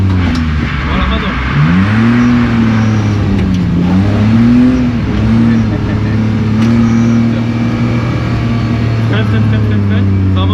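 A BMW 325 drift car revving hard during a handbrake drift, its loud, close engine rising and falling in repeated pitch sweeps before settling into a sustained high-rev drone.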